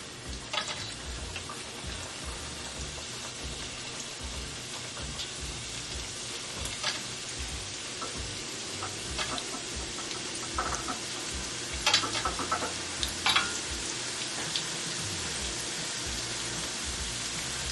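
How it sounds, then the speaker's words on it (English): Wontons deep-frying in hot oil give a continuous dense bubbling hiss, steady and close, with a few brighter crackles and pops near the end and no talking. "I'm going to add the next batch in. Let these fry"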